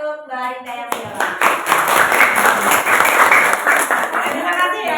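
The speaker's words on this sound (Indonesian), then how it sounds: "silakan tepuk tangan" Classroom applause for a student who asked a question, a brief round of clapping from a small group that starts after a moment of a voice speaking, with talk continuing faintly over it.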